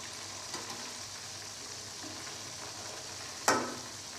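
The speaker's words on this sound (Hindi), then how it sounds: "कवर करके हम इनको इसलिए फ्राई करेंगे ताकि इनका हार्ड ना हो जाए।" Chicken pieces fry covered in a pan with a steady, even sizzle throughout, and a single sharp clatter or lid knock cuts in near the end.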